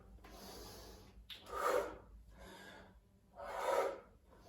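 Two slow, breathy inhalations, audible and close, rise and fade during a bodyweight squat workout, separated by a quieter exhale-like gap.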